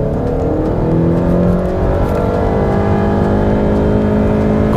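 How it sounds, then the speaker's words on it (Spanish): A Honda Civic EX with a CVT gearbox accelerates in Sport mode from about 2000 rpm, its engine drone climbing smoothly and continuously without any gear shifts, heard steadily from inside the car. "comprobar la aceleración del Honda Civic EX en una caja CVT que no tiene cambios en la palanca"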